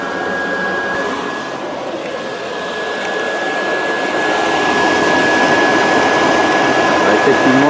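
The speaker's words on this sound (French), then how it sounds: "il y a même un chauffage, 48 volts, 800 watts" A 48-volt, 800-watt heater in a Goupil electric utility vehicle runs with a loud, continuous whirring hum and a thin steady whine, holding unbroken and growing slightly louder throughout.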